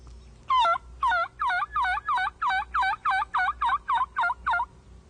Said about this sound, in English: Dan uses the diaphragm call in his mouth